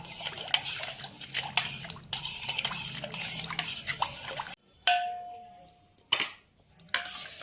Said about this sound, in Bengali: চিনিটা যতক্ষণ না পর্যন্ত গুলে ততক্ষণ পর্যন্ত এইভাবে মিশাতে থাকতে হবে